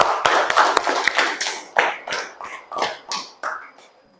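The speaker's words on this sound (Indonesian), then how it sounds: "sekali lagi berikan aplaus untuk kelompok ini" A small group claps for a presenting team, giving a dozen or so close, uneven claps that thin out toward the end.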